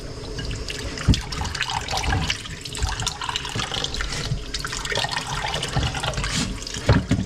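Cold well water running and splashing as butter is kneaded and washed in it, a close, continuous pour with uneven sloshing and a few sharper splashes, no talking.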